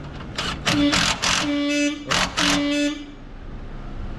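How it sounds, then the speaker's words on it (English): A Nissan 350Z car horn honks in short bursts when grounded, a few steady tones with brief gaps, close and fairly loud amid workshop noise, then stops. "It honks when it gets grounded,"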